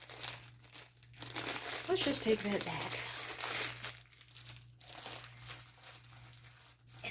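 A plastic bag crinkles and rustles in irregular bursts as a cat plays with it, the crackling rising and falling under a soft-spoken voice and a low steady hum.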